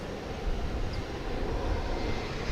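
A Boeing 737-800 taking off at DFW International Airport, heard as a broad, steady jet engine roar that swells slightly, distant to mid-range and continuous, with no speech.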